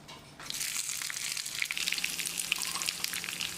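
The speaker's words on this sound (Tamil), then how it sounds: "வெங்காயம் ஒரு 30-40 செகண்ட் வதங்கட்டும்" A handful of chopped small onions hits hot oil with mustard seeds, curry leaves and two dried red chillies for a sambar tempering, bursting into a loud, steady sizzle with scattered crackles after a quiet start, no voices.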